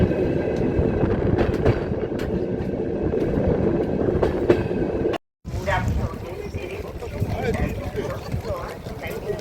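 A train rumbling along its rails with rhythmic clicking and a steady rattling roar, briefly cutting out before continuing; no one speaks.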